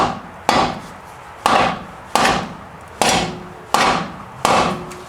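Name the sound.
hammer tapping on wood block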